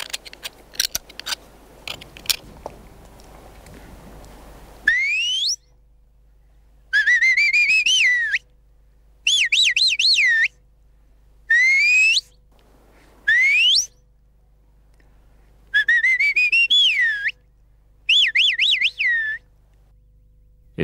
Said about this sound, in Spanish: Estos sonidos agudos que el pastor lograba soplando el chiflo eran reconocidos por el ganado